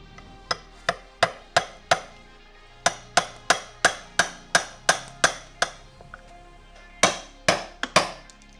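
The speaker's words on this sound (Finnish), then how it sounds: "Otetaanpa lekaa ja taltta ja hakataan ne irti." Sharp metallic blows of a sledgehammer striking a chisel to knock bumps off a Ski-Doo Summit snowmobile ski, a steady run of close, loud impacts in bursts with brief pauses between.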